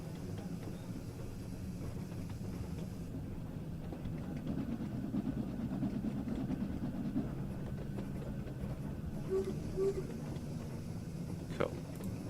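A steam locomotive rumbles along in Train Sim World 3 on the Peak Forest Railway route, a low continuous rolling drone with faint clanks, while people talk throughout.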